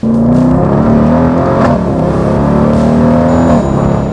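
The 6.4-litre V8 of a Dodge Durango SRT roars loudly as it accelerates, a deep throaty drone rising and dipping in pitch over a few seconds, with no talking.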